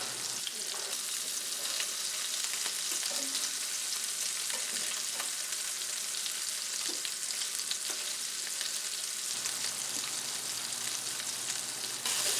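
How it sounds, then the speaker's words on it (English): Meatballs searing in a frying pan on medium-high heat, a loud, constant crackling sizzle close up with occasional spits and faint scraping, steady for the whole stretch, no talking. "And off to our frying pan, which we've warmed up medium-high heat"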